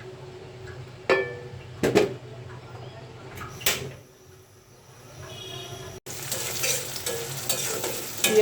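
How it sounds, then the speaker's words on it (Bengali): Onions frying in oil with garlic and green chilli in a pan, a steady close sizzle under sharp clinks and scrapes of a spoon stirring, growing busier toward the end. "পেঁয়াজটা আমি ভেজে নিচ্ছি ভালোভাবে।"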